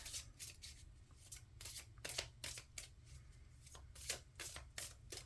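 Tarot cards are shuffled close up in a quiet room, a series of quick, crisp riffling bursts repeating irregularly over a faint low hum.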